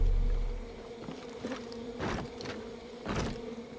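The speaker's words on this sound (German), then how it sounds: "Wespennest." Buzzing of a wasp nest in the video game Far Cry 5: a steady droning hum with a few swelling bursts of louder buzz, fairly close, with no talking.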